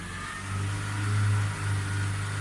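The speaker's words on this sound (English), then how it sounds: "I'm going to increase my engine speed up to about 2000 RPM, maybe 2500 RPM." A car engine is revved up to about 2000–2500 RPM, a steady mid-pitched hum that swells briefly and holds. The engine is fairly quiet and steady, with no talk.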